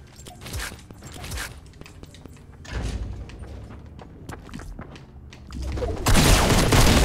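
Shotgun fire and game action in the video game Fortnite: several loud booming blasts spread across the stretch, with mechanical clatter and thuds between them and a dense noisy burst at the end.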